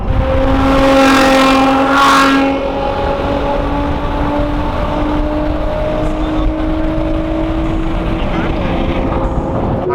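A Porsche Taycan electric car drives along an Istanbul road, giving a steady, rising motor whine over a rush of wind noise, loudest at the start and then holding level.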